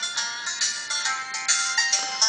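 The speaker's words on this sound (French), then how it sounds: "On va écouter une sonnerie." A Sony Ericsson W880i mobile phone plays a bright electronic ringtone, a close, clear melody of repeating pulsed notes with nothing else heard.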